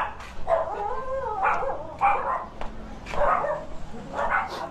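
A dog barks in a series of several loud, close barks spaced through the moment, with a whiny, yelping edge and low household noise underneath.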